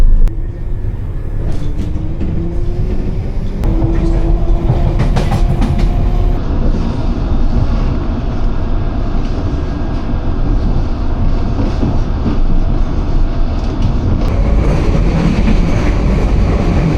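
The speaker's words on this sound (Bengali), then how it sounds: "ট্রেন ছেড়ে দিয়েছে।" A train pulling away after a hold-up for a line problem on a London route toward Hammersmith, with a steady loud rumble of wheels on rails, some squeals and clatter, continuous throughout with no talk.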